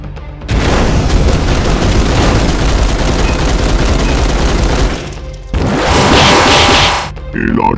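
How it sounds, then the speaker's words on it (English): Loud, dense bursts of gunfire and booming blasts fill a battle scene, sustained for several seconds, then cut out briefly before another roaring blast flares up and fades. "Preparing to fire ammo and flame."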